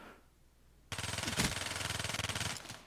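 Light machine gun fire in a video game erupts after a quiet moment: a loud, rapid, sustained burst of evenly spaced shots continuing to the end, close and dominant.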